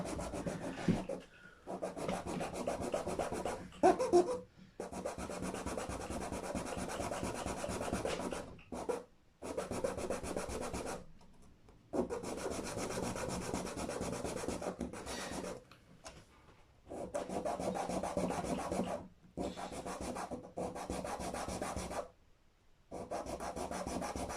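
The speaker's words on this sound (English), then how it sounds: "So a millimetre is quite a lot to sand off, and you can see how it's done." A nut is sanded down by hand to match the original's thickness, a steady rasping rub that runs in long strokes and stops several times for brief pauses, close and fairly quiet with no talking.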